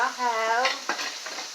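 Chicken fries in a pan with a close sizzle and the scrape and clink of a utensil stirring, a brief tonal squeak at the start, fading to a softer crackle.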